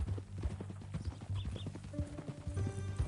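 A horse in the Red Dead Redemption 2 video game clip-clops along in a steady rhythm of near hoofbeats, with faint tonal game sounds entering near the end.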